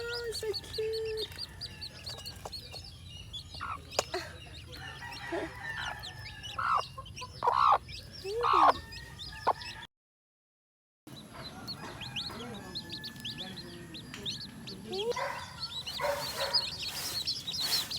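A mother hen on a homestead with her new chicks clucks repeatedly in short low bursts over outdoor background noise, joined by faint chirps, with a brief silent gap midway.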